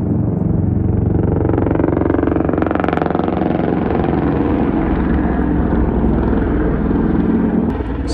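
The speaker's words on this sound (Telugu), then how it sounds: "నాకు తెలిసి ఒక హెలికాప్టర్ వస్తున్నట్టు ఉంది." A helicopter flies over Mussoorie in the Uttarakhand Himalayas, a steady broad engine and rotor roar that stays loud and continuous throughout, with no talk.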